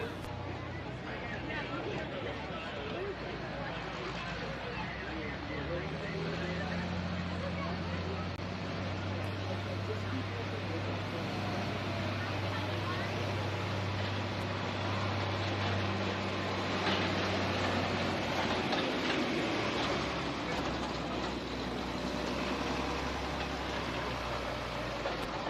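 An International 1066 hot farm class pulling tractor roars at a tractor pull, a loud sustained engine drone with a deep steady tone through the middle stretch, mixed with crowd noise and an announcer talking throughout.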